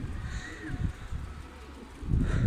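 Pigeons in a loft give soft, low cooing calls, a few brief murmurs close by with a louder burst near the end.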